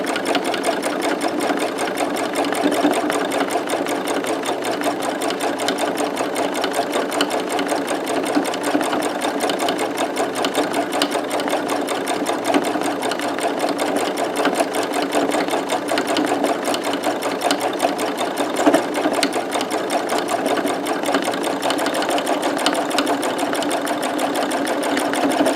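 Sewing machine running steadily for a long stretch as it stitches back and forth over a fabric collage notebook cover, a close, even, rapid mechanical whir with no pauses and no talking.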